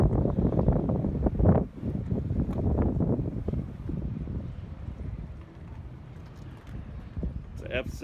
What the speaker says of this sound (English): I'm not too fond of the wind today, folks. Not too fond of the wind.